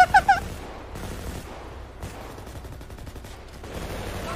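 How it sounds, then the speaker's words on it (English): Gunshots in the video game GTA: a quick burst of three sharp cracks at the start, then scattered fainter pops over a busy game backdrop. "Shots aren't reaching anymore."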